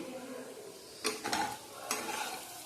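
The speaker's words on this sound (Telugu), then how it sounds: "శుభ్రంగా కలుపుకుంటే ఆనియన్ బంగాళదుంప ఫ్రై రెడీ అయింది" A potato and onion fry is stirred in a pan over a steady frying hiss, with a few scraping strokes coming in bursts close by and no voices.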